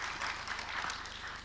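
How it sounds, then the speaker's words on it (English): Audience applause following a panel introduction at an innovation and human capital forum, a steady broadband wash of clapping lasting throughout, fairly even in loudness with no speech over it. "So round of applause for our speakers"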